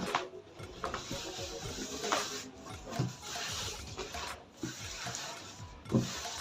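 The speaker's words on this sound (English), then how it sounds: "From your 19 inches side, that's where you're going to fold your Ankara fabric from." Hands fold and smooth Ankara fabric on a surface, producing soft repeated rubbing and brushing strokes at close range, with irregular swishes and light taps rising and falling.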